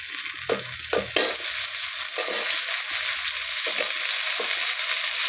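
Potatoes fry in hot oil with onion and garlic for a mixed-vegetable village dish, a steady close sizzle broken by several scraping stirs in the pan, louder in the first second.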